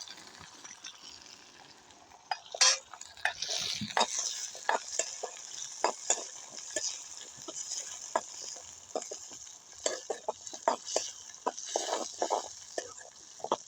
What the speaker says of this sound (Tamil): நாங்கள் சின்ன வெங்காயத்தை போட்டு வதக்க போகிறோம் அதோடு சேர்த்து உள்ளியையும் வதக்கி எடுக்க போகிறோம்